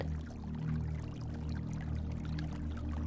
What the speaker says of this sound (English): Tree frogs sing along with the gentle hush of the falling water and gurgling stream